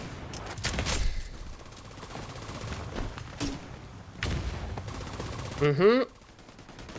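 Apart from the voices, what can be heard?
automated turret gunfire in video game The Division 2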